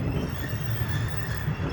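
A passenger train runs on the rails, heard from inside as a loud, continuous rumble with steady rolling clatter and a faint metallic squeal above it.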